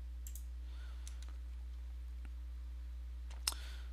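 Sparse, faint computer mouse clicks, a few separate taps with one sharper click near the end, heard over a steady electrical hum while browser tabs are opened.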